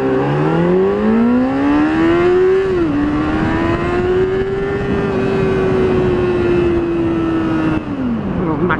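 A BMW with a loud exhaust drones close by, its engine note climbing as it accelerates, holding steady, then dropping away near the end.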